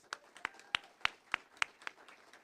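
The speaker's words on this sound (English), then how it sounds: "Give yourselves a round of applause, please" Sparse, faint clapping from a small community gathering at a groundbreaking event, about seven separate claps spaced roughly evenly, heard at a distance over a low background hum.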